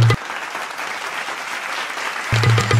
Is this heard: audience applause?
yes